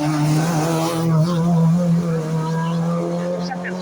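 A Honda Civic race car on a timed hill climb run drones with a steady engine note under a commentator's continuous talk, loud and sustained throughout.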